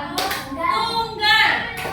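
Fifth-grade pupils at an Indonesian primary school do a single-clap classroom routine: a couple of brief, sharp claps amid children's voices and talking.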